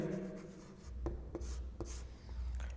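Chalk or a marker scratches across a classroom board in short, close strokes with a few sharp taps, over a low steady room hum.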